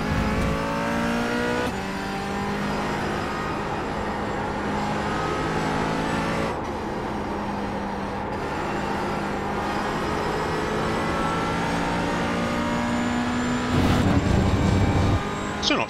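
A McLaren GT4 engine drones steadily in a racing video game at Road America, holding a laboured high gear with sustained harmonic tone, brief shifts and a louder surge near the end, no talking over it.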